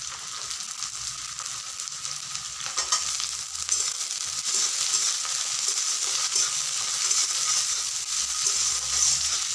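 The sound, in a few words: frying dried fish (shutki) with onions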